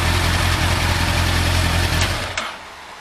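A Yamaha Thunderace motorcycle with a leaking petrol tank idles close by with a steady, throbbing low rumble. After a few seconds the engine cuts out and the sound fades.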